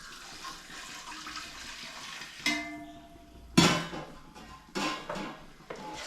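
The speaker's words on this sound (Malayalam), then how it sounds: "അപ്പം നമുക്ക് ഇനി ഇതിനകത്തോട്ട് ആവശ്യത്തിന് വെള്ളം ഒഴിക്കാം" Water pours into a cooking pot for beef biryani made with ration rice, a few separate splashing gushes with clatter from the pot between them, close by and moderately loud.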